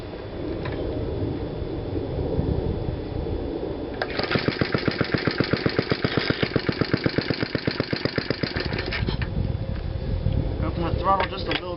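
A small engine sputters and catches, then settles into a rapid, even chugging idle close by before faltering near the end, with a voice talking over it.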